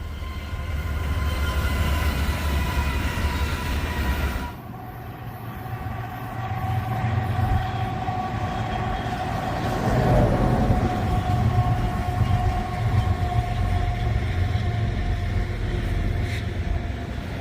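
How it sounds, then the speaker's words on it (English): A long freight train rumbles steadily past close by in Arizona, a continuous heavy roll of wagons with a brief dip in loudness partway through. "And here comes another train."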